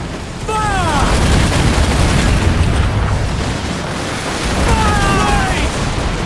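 Ship cannons fire in Assassin's Creed Black Flag, a loud, heavy booming broadside that rolls on as a sustained rumble, with brief shouted voices near the start and end.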